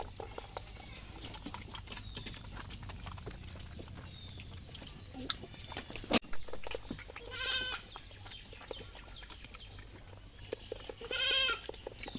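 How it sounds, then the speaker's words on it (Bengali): Goats feeding on a farm bleat twice in clear, wavering cries late in the stretch, over steady low rustling and background farmyard noise, with no talking. "এই কটা ছাগল এদিকে খাচ্ছে আর ওইদিকে হচ্ছে বড় ছাগলগুলো খাচ্ছে"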